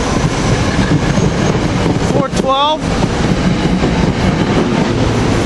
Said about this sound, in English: Trenton train 743 is leaving.